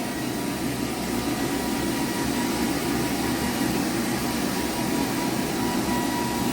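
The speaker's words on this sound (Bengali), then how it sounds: "দাঁড়া, এক মিনিট, চুল শুকাচ্ছি তো" A hair dryer runs steadily while drying hair, giving a continuous, even blowing whir at a constant loud level for the whole stretch, with no voices.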